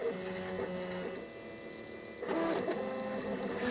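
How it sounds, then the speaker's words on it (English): A 3D printer prints a part with a steady mechanical whir and stepper-motor tones, running continuously and growing busier and louder partway through. "Just showing you it working for a little bit if you haven't seen 3D printing."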